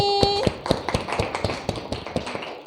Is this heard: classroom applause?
yes